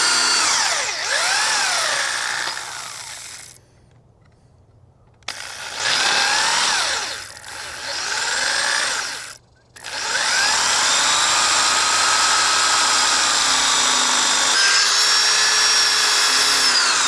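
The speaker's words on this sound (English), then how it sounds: "I got a bubble level on this drill." A cordless power drill with a bubble level attached runs at an off-grid homestead build. It whines loudly in several bursts with rising and falling pitch, broken by two short pauses, then holds a long steady run to the end.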